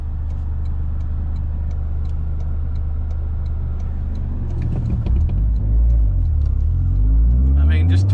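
Toyota GR Corolla engine pulling hard from inside the cabin, a steady loud low drone that swells and rises in pitch toward the end as the car accelerates, with some talk over it.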